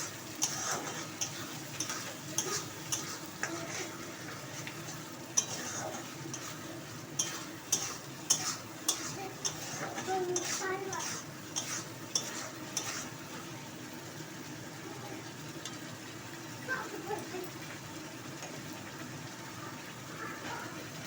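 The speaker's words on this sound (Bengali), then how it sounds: "মশলাটাকে এবার আমি কষিয়ে নেব।" Spice masala with onion paste is stir-fried in a pan for chicken curry, a quiet background sizzle punctuated by rapid runs of light ticking spoon taps and scrapes, fairly faint and close, with no talk.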